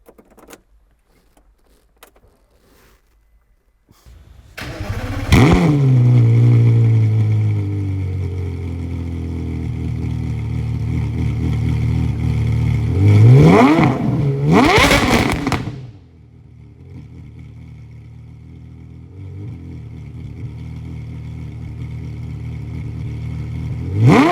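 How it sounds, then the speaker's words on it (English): A Porsche Carrera GT V10 cranks and fires up, settling into a loud idle, then blips its revs sharply twice before dropping back to a steady, quieter idle; no one speaks. "the sound that it makes when it starts up"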